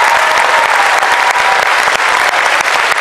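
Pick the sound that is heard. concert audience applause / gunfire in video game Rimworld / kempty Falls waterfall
concert audience applause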